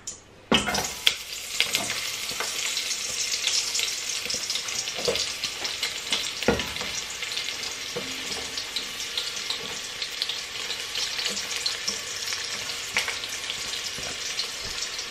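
Onions fry in hot oil, a continuous close sizzle with scattered pops and clicks of stirring, and a faint running-water wash underneath for the whole stretch.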